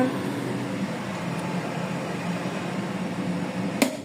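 A washing machine runs in the middle of its wash cycle, a steady, close mechanical hum and whir with one brief click near the end.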